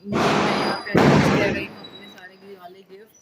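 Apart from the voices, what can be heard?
Diwali firecrackers bursting outside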